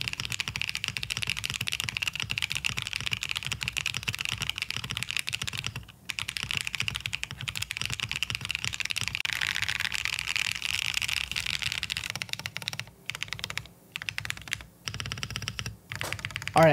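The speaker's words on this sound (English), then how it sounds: "I've never tried an O-ring mounted keyboard. So this would be my first. Sound test." Rapid typing on an O-ring mounted Neo80 custom mechanical keyboard, a dense stream of close, crisp key clacks with brief pauses near the end, no talking.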